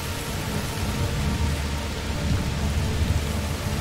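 Steady rain in the video game A Plague Tale: Requiem hisses in a dense, even wash with a low rumble underneath, continuous and unbroken throughout.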